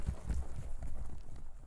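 Horse hooves clip-clopping in the Silent Hill 2 video game, a run of low, muffled thuds in an irregular trotting rhythm, fairly close and steady with no talking over it.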